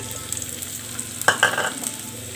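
Garlic, ginger and shallots sautéing in sesame oil for beef pickle, a soft sizzle with a few scraping stirs and small spatters, close and brief.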